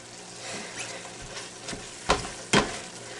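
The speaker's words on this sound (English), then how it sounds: "This is really starting to sizzle now. You hear it?" Navajo taco food sizzles and crackles steadily in a frying pan, broken by a few sharp pops and spatters.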